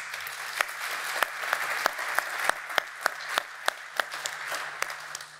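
Hall audience at a German crafts-trade event applauding steadily, a dense wash of many hands with individual sharp claps standing out, moderately distant and fairly soft.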